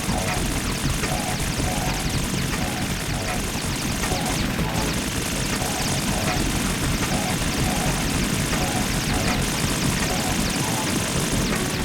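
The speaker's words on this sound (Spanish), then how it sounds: "Literalmente soy una persona humana luchando contra un puto helicóptero. O sea, contra un puto caza." A fighter jet in the Metal Gear Solid 2 video game roars steadily throughout, a dense continuous engine drone with a faint rhythmic pulsing, loud and unbroken under game noise.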